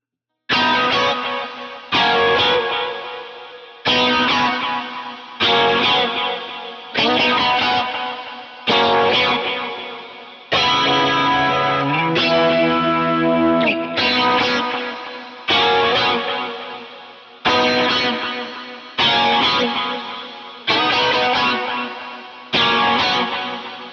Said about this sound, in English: And so the outro with all the effects will sound like this